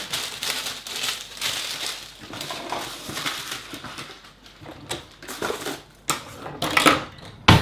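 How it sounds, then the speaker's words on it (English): A generous sheet of grease-proof paper handled in the kitchen gives loud, close crinkling and rustling in irregular bursts, with no talking. "let's get a nice generous piece of grease-proof paper."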